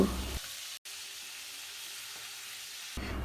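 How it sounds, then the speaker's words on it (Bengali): Chicken pieces frying in oil, a steady, fairly faint hiss of sizzling that continues evenly with one brief dropout, heard alone without talk. "বাকি চিকেনগুলো আমি এভাবে ভেজে নেব"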